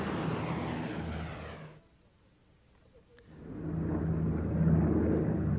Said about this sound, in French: il tire sur le manche et l'Enola Gay prend son envol